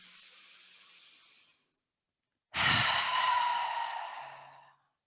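Deep breathing during a yoga class: a long, soft exhale fades out, then after a pause a strong, close inhale swells and slowly tapers, with no talk over it.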